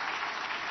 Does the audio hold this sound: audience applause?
yes